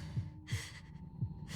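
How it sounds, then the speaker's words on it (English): Slow in-and-out breaths from the breathing minigame in the video game Tell Me Why, soft puffs of air repeating with a faint low thumping pulse beneath, quiet and close. "Ah, the breathing minigame."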